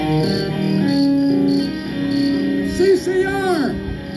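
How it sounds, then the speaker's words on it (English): Crickets chirp in a steady high trill while someone talks over them and other voices and tones rise and fall in the background. "I haven't heard crickets in years."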